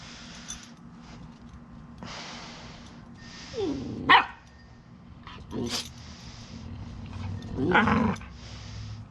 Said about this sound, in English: She's a Husky Pit Bull.